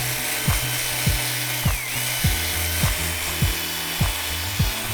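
An electric drill fitted with a polishing pad buffs the painted body of an electric guitar, giving repeated rhythmic rubbing strokes about every half second over a steady motor whine, close up and with no talking.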